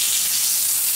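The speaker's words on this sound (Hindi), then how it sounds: "अब तेल में हम करी पत्ता डालेंगे" Curry leaves dropped into hot oil give a loud, dense, continuous sizzle and hiss, close and steady for a brief moment.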